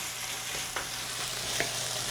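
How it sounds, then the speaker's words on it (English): Food sizzles and crackles steadily in a hot pan, with a couple of brief scraping stirs. "Now you hear it sizzling"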